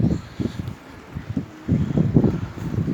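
Gusts of wind buffet the microphone outdoors on a sunny spring day, rising and falling in uneven bursts of loud, low rumbling with a quieter lull in the middle before growing stronger again.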